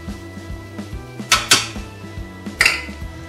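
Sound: adding onions and garlic to chorizo in an Instant Pot

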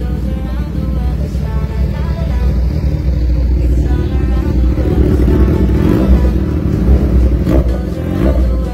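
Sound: Kawasaki Z1000 Sugomi motorcycle engine revving

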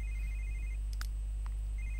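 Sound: telephone ringing in the video game The Sims 3

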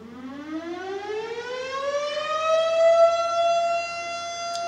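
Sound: fire station alarm siren

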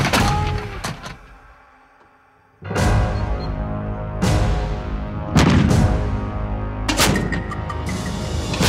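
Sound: LG-1 Mark II 105 mm artillery gun firing

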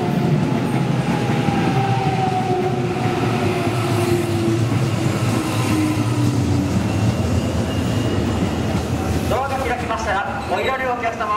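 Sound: JR train arriving at Amagasaki station platform 3

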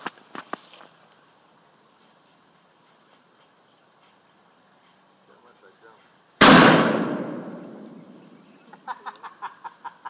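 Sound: miniature old plated .70 cal cannon firing

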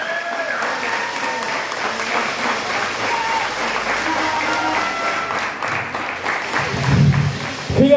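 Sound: crowd applause for a wrestler

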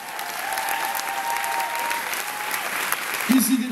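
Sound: audience applause for performer Johan Verstreken

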